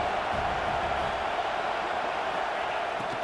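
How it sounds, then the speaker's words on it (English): A football stadium crowd produces a dense, steady wash of distant roar and cheering, sustained throughout without breaks. "This crowd bringing the energy and noise early."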